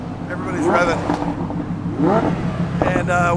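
Several Lamborghinis rev their engines while lined up for a rally in South Africa, with loud rising and falling revs near a tunnel entrance, mixed with crowd noise and voices talking over them.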